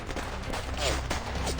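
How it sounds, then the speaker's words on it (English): Sporadic gunfire in the video game Reverse 1999, scattered sharp shots spread across a brief, dense battle din, with voices mixed in under the shooting. "Sporadic gunfire fills the air"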